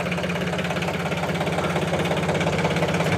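A tractor engine idles steadily nearby with a throbbing, slightly knocking mechanical rhythm that stays loud and even throughout, with no one talking.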